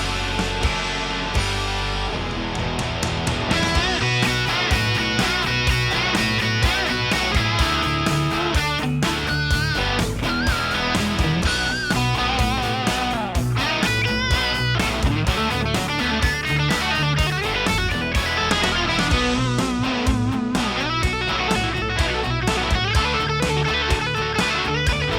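Dense, crunchy high-gain distorted electric guitar through a Celestion speaker playing steadily and loud, with thick saturated chords filling the mix throughout.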